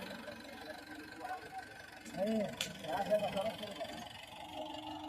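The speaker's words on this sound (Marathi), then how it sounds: "ट्रॅक्टरनं गाडी चढावरून बाहेर काढत आहेत" A low tractor engine rumbles steadily at moderate distance, swelling briefly in the middle, with faint voices talking over it, as it pulls a stuck bullock cart loaded with sugarcane up a slope out of a field.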